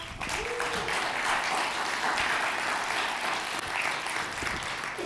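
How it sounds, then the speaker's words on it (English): A crowd at a talk on diversity, equity and inclusion breaks into steady, sustained applause. The dense clapping carries at an even loudness from start to finish. "can we all give ourselves a round of applause?"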